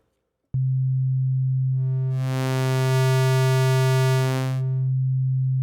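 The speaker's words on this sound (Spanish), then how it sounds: "Ahí tenemos sinusoidal" Steady sine wave oscillator from the Meld synthesizer in Ableton Live 12, set up for a Moog-style bass, holds a loud continuous pure tone from its onset, with brighter harmonic overtones swelling in briefly midway before it settles back.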